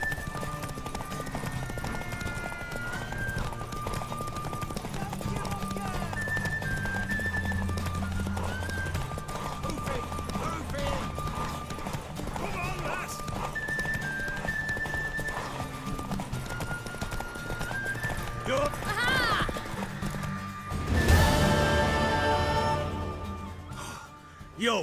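Horse hooves clip-clopping at a gallop in The Witcher 3: Wild Hunt, a rhythmic pounding under game music and ambience, with a whinny and snorts, building to a louder burst near the end.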